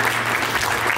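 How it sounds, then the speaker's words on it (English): Guests at a fundraising dinner and diaspora convention for a presidential aspirant applaud in a dense, continuous wash of clapping that holds at an even level for the full second. "I think that deserves a round of applause."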